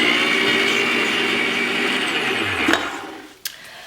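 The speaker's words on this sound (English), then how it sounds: "Put down my mixer and just whisk that around for a moment just to get those" An electric hand mixer whirs steadily through ham tea bun ingredients in a bowl, a loud close motorized drone that winds down near the end, followed by a couple of light knocks.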